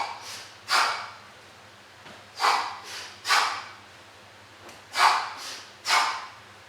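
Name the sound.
forceful exercise breaths during samurai lunge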